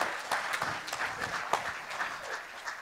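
Scattered applause from an audience at an inaugural function, a handful of people clapping unevenly for a few seconds with no voices over it.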